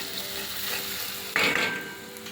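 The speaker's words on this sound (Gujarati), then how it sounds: "બરાબર હલાવીશું." A spoon stirs and scrapes through turmeric and chilli powder sizzling in a pan, with a steady fry hiss and a brief louder clatter midway.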